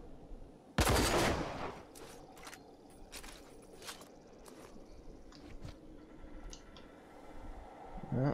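.308 rifle gunfire in the video game Rage: one sharp, loud shot with a booming tail near the start, followed by fainter clicks and mechanical handling noises.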